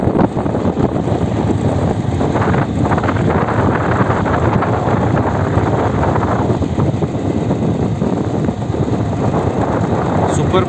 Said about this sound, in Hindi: बाइक राइड का आनंद लेते हुए